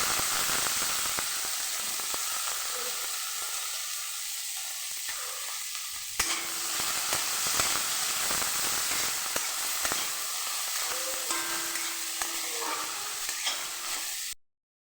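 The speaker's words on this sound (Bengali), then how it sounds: "পেঁয়াজ কুচি দেওয়ার পরে পেঁয়াজটাকেও ভালোভাবে ভেজে নেব।" Chopped onion fries in hot oil with garlic in a pan, a steady close sizzle running throughout with scattered stirring scrapes and spatula knocks, and no voices.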